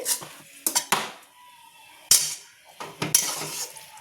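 A utensil scrapes and clinks against a pan while fried cauliflower is stirred into gravy for a vegetarian cauliflower masala, in sharp intermittent clatters separated by quiet pauses.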